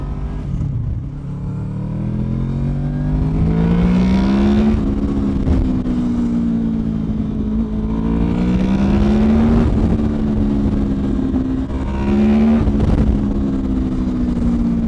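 A motorcycle with a Delkevic titanium aftermarket exhaust rumbles loudly and revs up and down in repeated swells, close by, with a throaty exhaust tone.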